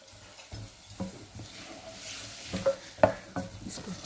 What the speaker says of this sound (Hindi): इसको अच्छी तरह से हिलाएंगे।